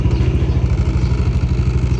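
A Yamaha Aerox V3 scooter running on 97-octane fuel revs close up, its engine giving a steady, throbbing pulse with a loud, even mechanical chug and no voices.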